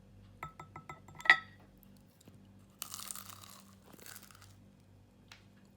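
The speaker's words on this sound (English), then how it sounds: "So you guys clearly heard this, the crunch" Crisp crunch of a bite into a hot, freshly fried Moroccan seafood briouat, a crispy stuffed pastry: a short run of light crackles, one sharp bite, then bursts of chewing crunch up close with no talk.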